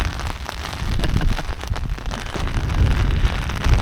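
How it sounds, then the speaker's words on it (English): Wind and rain outdoors at the back of a building, a steady broadband rush of wind and pattering rain, loud and close, continuous with no speech. "I come out the back, into the wind and the rain"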